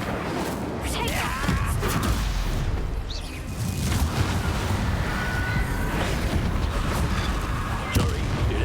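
Spell explosions, blasts and crackling impacts from the video game Hogwarts Legacy, a dense run of booms and bursts with game music and effects, continuous and fairly loud.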